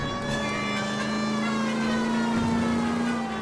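A police car siren from the video game L.A. Noire holds a loud, steady electronic wail with little rise and fall, running continuously with no talk over it.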